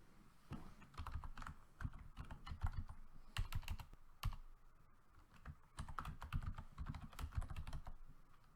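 Rapid typing on a computer keyboard while preparing a vinyl-cutting design file, with bursts of close, crisp key clicks and brief pauses, and no talking.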